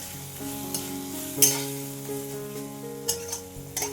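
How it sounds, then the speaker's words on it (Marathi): Masala cooking in oil for a quick tomato chutney is stirred with a spoon, giving close, steady scraping and sizzling with a few sharper clinks of the utensil against the pan, and no voices. "आता हे छान एकदा आपण हलवून घेऊया"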